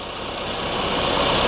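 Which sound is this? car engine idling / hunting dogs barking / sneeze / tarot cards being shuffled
car engine idling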